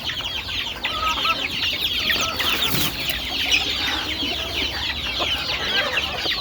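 Desi chickens clucking in a backyard flock, many overlapping short clucks and chirps at close range, steady and busy, with a brief louder rustle midway.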